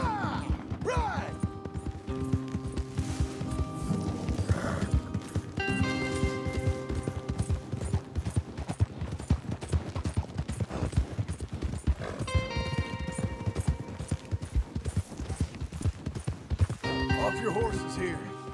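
Horses ridden at a trot in the Western video game Red Dead Redemption 2, hooves clip-clopping in a busy continuous rhythm with occasional whinnies, mixed under music and characters talking.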